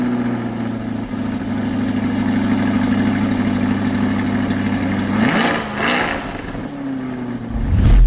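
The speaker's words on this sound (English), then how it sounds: "it's time to start this thing up and hear that motor." A 2024 Chevrolet Corvette's engine runs at a steady idle, then blips and revs briefly before settling again, with a final rising rev at the end; close and loud, no talk.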